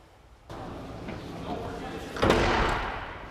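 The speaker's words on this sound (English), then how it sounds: "close the door" Door of a beer bottle crusher recycler shut after its mechanism slides in: a soft rumble of movement, then a single firm thud-slam near the end that rings out briefly.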